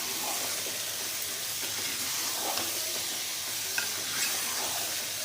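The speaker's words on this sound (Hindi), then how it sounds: "और अब हम इसको चलाएंगे।" Chicken korma with garlic paste and green chilli is stirred in a pan over a slow flame, giving a steady close hiss of frying with soft scraping and occasional clicks.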